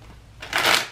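A deck of tarot cards shuffled once, close up, as a short papery riffle.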